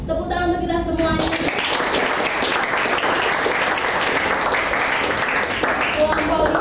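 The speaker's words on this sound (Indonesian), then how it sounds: "Tepuk tangan untuk kita semuanya." A classroom of students applauds after group presentations, a dense, sustained burst of clapping from many hands that fills the room, with a voice talking over the start and end.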